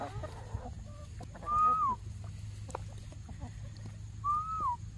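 Chickens being fed a wasp nest give soft clucks and two clear rising-then-falling calls, fairly close over a low background hum, with no speech.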